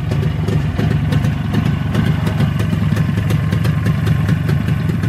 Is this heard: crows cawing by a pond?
no